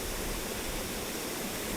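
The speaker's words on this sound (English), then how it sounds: "This has literally got to be one of the nicest waterfalls I've ever been to." The Scaleber Force waterfall gives off a steady, dense roar of falling water. The broad rushing sound stays constant throughout and carries no speech.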